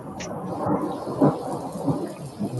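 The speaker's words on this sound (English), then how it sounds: "I can't hear you. The thunder's too loud." Rumbling thunder rolls through a heavy thunderstorm, heard from inside a garage, with several loud swells over steady rain hiss.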